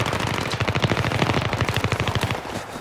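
Rapid automatic gunfire from the video game Battlefield 3, loud and continuous bursts of machine-gun fire in a multiplayer match, dense and sustained throughout with no talking over it.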